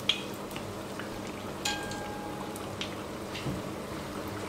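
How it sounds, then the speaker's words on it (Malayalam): Veg spring rolls frying in oil, turned to cook on both sides: a faint, steady sizzle and bubbling hiss with a few soft clinks of turning, no talking. "2 സൈഡിലേക്കും തിരിച്ചിട്ട് കൊടുത്തിട്ട് നമുക്ക് ഫ്രൈ ചെയ്തെടുക്കാം"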